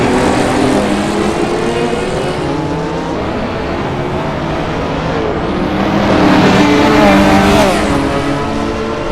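Race car engines roar in a VR sim racing game with a Shelby Cobra among the field, a continuous loud droning whine that swells and shifts pitch as cars accelerate and pass, with no voices.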